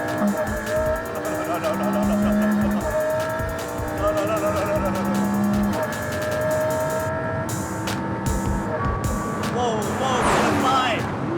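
A McLaren P1 twin-turbo V8 supercar is driven hard around a circuit, its engine roaring continuously and shifting pitch, with tire squeal and people talking over the loud cabin sound.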